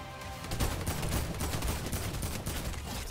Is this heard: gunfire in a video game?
yes